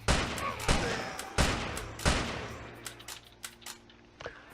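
A video game cannon fires several heavy booming shots in an uneven rhythm, each one loud and followed by a decaying rumble before fading into smaller pops.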